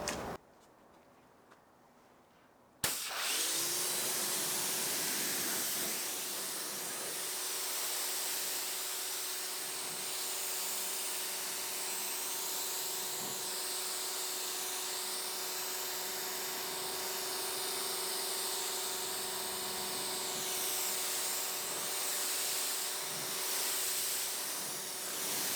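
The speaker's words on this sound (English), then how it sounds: "You can use a pressure washer or a hose" A steady hiss of water spraying from a hose rinsing a car runs continuously after a short quiet start, close and even throughout.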